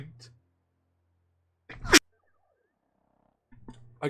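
A single sharp sneeze bursts out between stretches of speech, loud and close, with talking resuming just after.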